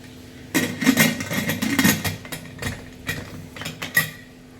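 Metal pots and a pressure cooker clatter on a kitchen stove while lentils and vegetables are set to cook, a burst of close clanks and knocks followed by a few scattered bangs and a last sharp clink.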